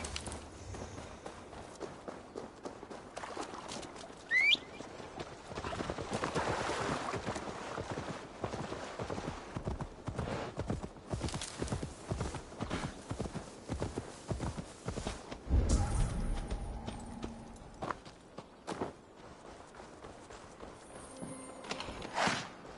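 Horse hooves clip-clopping in Assassin's Creed Valhalla as Magni rides along, a steady run of light hoof beats with ambient game sounds and water around it, pausing briefly partway through.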